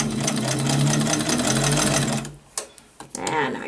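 A White Rotary Model 43 sewing machine runs in a fast, steady whir for about two seconds, then stops, leaving a few short clicks and a brief voice.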